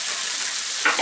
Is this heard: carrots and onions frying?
yes